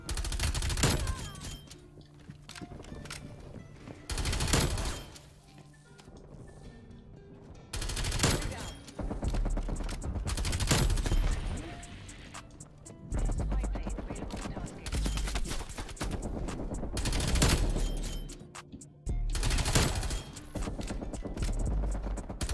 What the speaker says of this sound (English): We're actually firing right now.